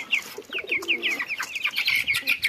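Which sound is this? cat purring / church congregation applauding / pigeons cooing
pigeons cooing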